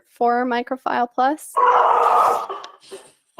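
Dogs bark in a burst just after a person speaks, a brief noisy outburst in the middle of a talk, then quiet.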